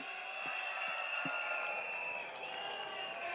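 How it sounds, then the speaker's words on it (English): Supporters at an outdoor SDP election rally on a waterfront promenade clap in a faint, steady wash of applause with a few sharper claps near the start, heard from some distance. "give yourself a big round of applause, everybody!"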